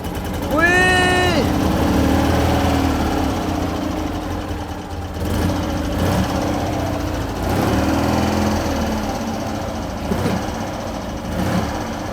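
A restored 1960 BMW R50 motorcycle engine catches with a rising rev, then settles into a loud, steady, close idle with a few throttle blips.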